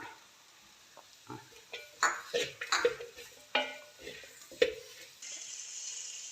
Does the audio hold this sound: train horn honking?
no